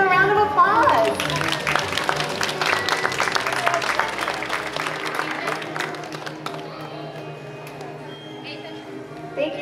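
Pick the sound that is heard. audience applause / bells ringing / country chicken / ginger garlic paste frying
audience applause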